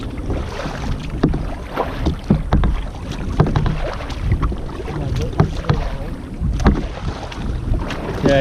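A kayak is paddled on water in Norway, with continuous splashing and sloshing, recurring paddle strokes and buffeting wind noise on the microphone close by.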